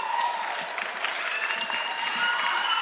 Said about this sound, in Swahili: Haya, pigia makofi governor.